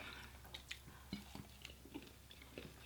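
Faint, close crunching and chewing as someone bites into crunchy shrimp, with soft irregular crackles over a low background hum.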